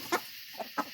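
A flock of farm chickens with roosters among them, giving a few short, separate clucks close by against quiet farmyard background.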